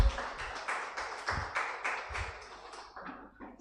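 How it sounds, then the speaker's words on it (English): A small audience at a Uganda Law Society event for the Day of the African Child gives scattered applause, the claps fairly sparse and uneven in the room and tapering off toward the end. "A round of applause once again."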